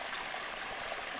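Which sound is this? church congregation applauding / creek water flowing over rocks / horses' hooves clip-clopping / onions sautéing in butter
creek water flowing over rocks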